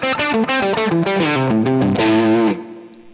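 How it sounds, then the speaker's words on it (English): Electric guitar played through a Line 6 Helix amp model with bias at 10, giving a smoother, more musical distortion; a short, loud run of chords and notes rings out alone, then decays. "it's just a more pleasant musical distortion, I find."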